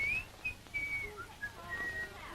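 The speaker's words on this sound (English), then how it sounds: "Hey, who's that whistling?" A person whistles in a theatre dressing room, a thin wavering melody of held and sliding notes, faint against a quiet background, in a 1939 film.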